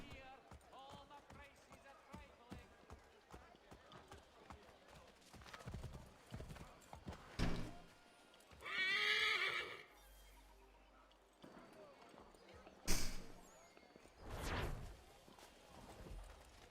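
A horse in Assassin's Creed 3 clip-clops along in rhythmic hoofbeats, with game dialogue spoken over it and a few louder bursts of noise.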